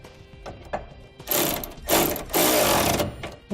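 Hardware holding an upper bracket to a truck frame is tightened with a power tool, giving short buzzing bursts that lengthen into loud sustained whirring runs, close up and with no talking.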